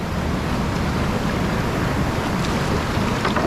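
Continuous rushing whitewater of river rapids on the French Broad River while paddling, a steady loud broadband roar of churning waves with wind noise and no pauses.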